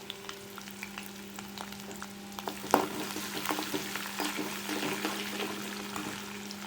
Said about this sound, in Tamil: இப்போது வெங்காயம் கட் பண்ணி வச்சுருக்கத சேர்த்துக்கிறேன்